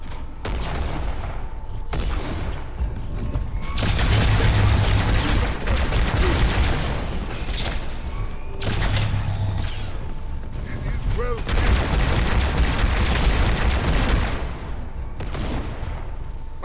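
Grenade explosions and heavy gunfire fill a Halo 2 firefight with Grunts, repeated bursts and booms in dense, loud waves with short lulls between them, and voice-like sounds mixed in.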